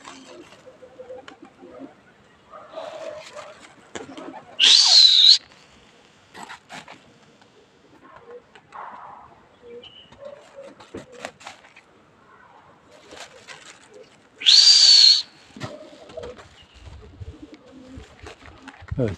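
Domestic high-flying pigeons coo and flap around a loft, with two sharp, loud bursts standing out amid softer bird sounds while someone talks quietly throughout.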